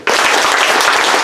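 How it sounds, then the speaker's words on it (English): A group of people clapping their hands together in an attempt at unison, the claps loud and close but smeared into a brief ragged burst rather than three crisp beats. "clap your hands 3 times perfectly in synchronization"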